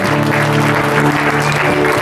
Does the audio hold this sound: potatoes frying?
no